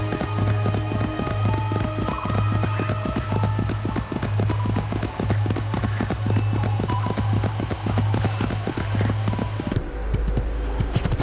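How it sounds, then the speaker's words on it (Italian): Galloping horse in the video game Assassin's Creed II, a steady rapid clip-clop of hooves running close and loud throughout, with game music and ambience underneath, stopping near the end. "possiamo prendere il cavallo"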